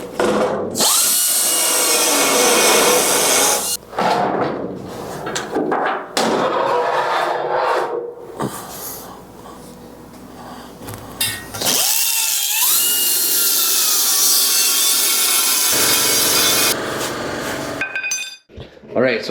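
Power cutting through steel truck bed hinges for a custom tilt bed scissor hinge upgrade, loud and continuous with grinding bursts, brief pauses and metallic clinks between cuts.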